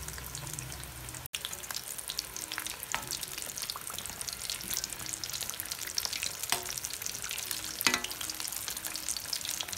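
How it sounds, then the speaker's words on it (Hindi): Samosas frying in hot oil over a medium flame give a steady, dense sizzle with faint crackles and occasional louder pops, continuous and close throughout with no voices. "ये फ्राई हो रहे हैं, और इनको भी हम मीडियम फ्लेम पे जो है इसको हम फ्राई करेंगे"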